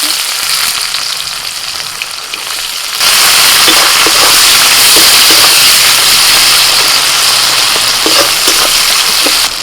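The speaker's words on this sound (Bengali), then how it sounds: "ফোড়নে দিচ্ছি তেজপাতা শুকনো লঙ্কা পেঁয়াজ দিয়ে দিচ্ছি" Bay leaf, dried red chilli and onion dropped into hot oil for tempering. A quiet hiss suddenly jumps into a loud, steady sizzle and crackle that continues evenly.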